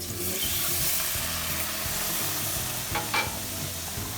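A spoon stirs milk into squash soup in a pot, giving a steady scraping swirl over a low simmering sizzle, close and moderately loud, with no talk.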